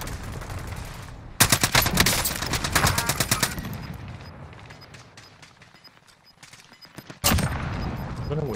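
A gunfire exchange in the Iron Trials video game: loud bursts of automatic fire start suddenly, fade into scattered, more distant shots, then a fresh close burst erupts near the end.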